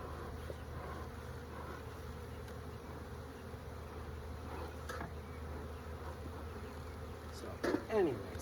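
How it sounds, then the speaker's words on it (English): A dense swarm of honeybees drones around a hive outdoors at the end of the day. The steady buzzing fills the air and goes on throughout, with one close bee zipping past near the end. "I've got tons of bees on the ground here that I'm stepping on"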